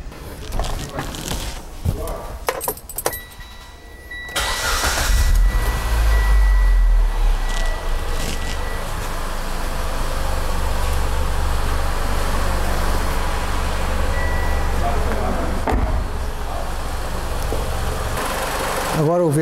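Mitsubishi Lancer GT engine starting and then running steadily on a half gasoline, half injector-cleaning fluid mix, a loud continuous idle close by with people talking over it.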